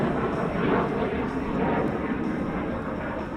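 Military jet aircraft landing at a Southern California airshow, an A-37 in its Vietnam-era 1970 appearance, a broad steady engine roar that holds loud and continuous throughout with a faint announcer voice mixed beneath.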